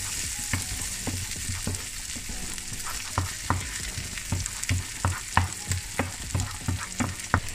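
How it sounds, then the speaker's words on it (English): Onion, spring onion, garlic and diced bacon sizzle steadily in a pan over high heat, close and even, with regular clicks and scrapes of stirring throughout. "Add onion, spring onion, garlic and diced bacon. Pan fry until brown, usually 3 to 5 minutes on high heat."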